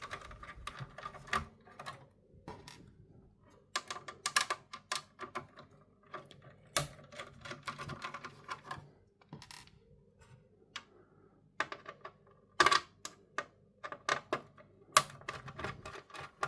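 A screwdriver working out screws around the top of a PlayStation 3 fan, giving scattered small clicks and ticks in irregular bursts, close and quiet with no talking.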